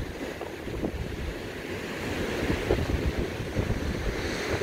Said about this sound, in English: the waves were just really, really big. About like they are right now.